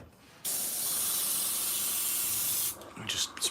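An airbrush sprays paint onto model railway foliage in a steady, loud hiss that runs unbroken for about two seconds, then stops and gives way to softer handling noises.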